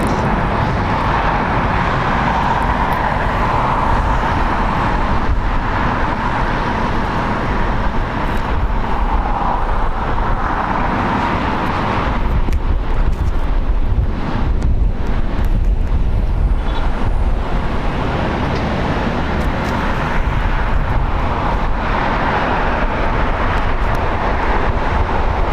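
A four-year-old Airbus A321neo airliner at LAX airport produces a broad, steady jet roar that swells louder midway, mixed with wind buffeting and distant traffic-like rumble.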